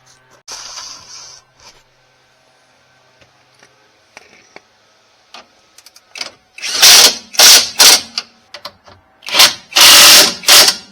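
A power tool tightening the rear shock bolts on a Scion iQ jacked up in a garage, heard as several loud, close, short whirring bursts in quick succession after quieter mechanical clicks and handling noises.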